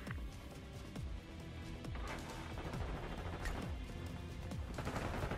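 Rapid gunfire in the Black Ops 6 Kill Order mode, dense overlapping bursts and single shots cracking one after another across the whole stretch.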